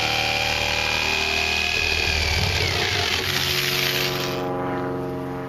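Power tool cutting a plastic barrel in half, a loud continuous whining drone that holds steady throughout and shifts slightly in pitch partway.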